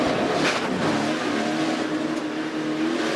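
NASCAR Truck Series race trucks on the Eldora dirt oval, engines roaring and revving loudly with a steady rising whine as they power along the track.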